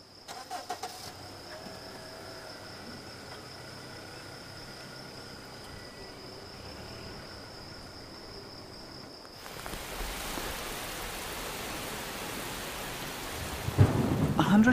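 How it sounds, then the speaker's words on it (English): Thunder rumbles and rain pours down at Unzen volcano in Japan, a steady downpour hiss that swells louder partway through, with a sharp crack near the end. "the weather has turned. It's been raining for hours."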